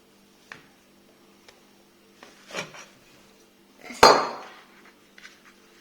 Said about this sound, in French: Donc on va couper le gâteau.